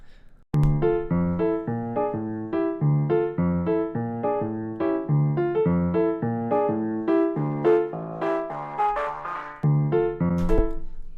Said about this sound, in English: you've got the high pass, low pass filter, sweep there